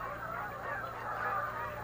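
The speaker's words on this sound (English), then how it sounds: "Winter is also an ideal time to capture and band Canada geese." Canada geese honking in a dense winter flock at a wildlife refuge marsh, a steady overlapping chorus of nasal calls, loud and continuous with no pauses.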